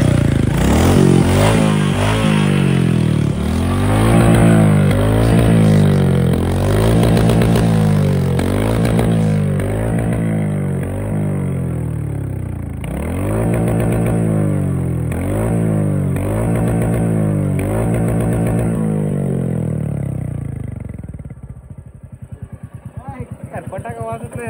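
A motorcycle engine revs repeatedly through its silencer, rising and falling in loud close bursts for about twenty seconds before settling toward idle, with some clatter alongside.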